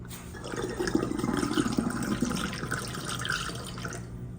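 Filtered water poured into a container while mixing a homemade cleaning spray of vodka and castile soap, a steady close splashing trickle lasting several seconds with no talking.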